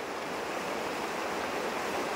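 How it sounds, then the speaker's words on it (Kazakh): The Ulba river in a mountain valley of East Kazakhstan rushes in a continuous broadband wash of flowing water, steady and fairly loud with no voices. "Үлбі өзені."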